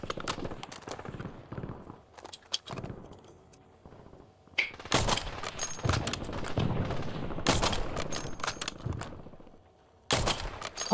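Gunfire in Hunt: Showdown comes as loud, sharp bursts and repeated shots after a quieter stretch of scattered clatter, with a final burst near the end and no speech.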